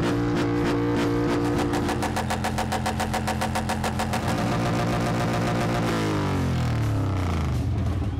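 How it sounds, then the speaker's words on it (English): Motorbike engine revving hard in a burnout, a loud continuous roar with rapid pulsing harmonics that holds steady then drops in pitch near the end. "So that's a guy trying to see if he can burn out his engine."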